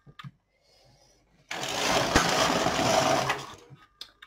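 Needles being raised on an LK150 knitting machine make a burst of mechanical whirring and rattling that runs for about two seconds in the middle, with faint clicks before and after in an otherwise quiet room.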